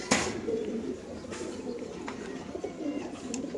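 Pigeons coo in a soft, repeated murmur, close and continuous, with a sharp flutter or knock at the start and light background rustling, the birds being racing pigeons kept for sale.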